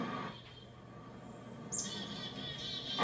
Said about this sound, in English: I've been hearing lots of birds